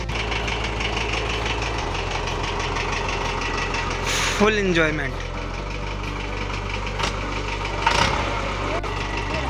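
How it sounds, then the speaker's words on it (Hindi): Tractor engine idling and running on a farm field, a steady low throbbing drone throughout, with people talking and laughing over it and a brief whistle-like sweep midway. "ये देखिए ये ट्रैक्टर चलाने की कोशिश की जाएगी अभी।"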